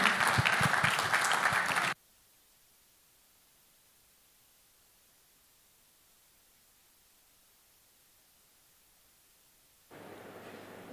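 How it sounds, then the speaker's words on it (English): A mentoring conference audience breaks into applause in a brief, loud burst that stops abruptly, leaving near silence before another round of clapping rises near the end. "a warm applause for all of them again"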